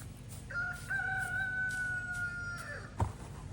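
A rooster crows once in a garden during onion planting, a loud, drawn-out call held for about two seconds, followed by a brief thump, with no talking.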